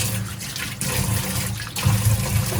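Water gushes out of a mini washing machine as it drains, a continuous rushing, splashing flow with a low gurgle, close and fairly loud, with no voices.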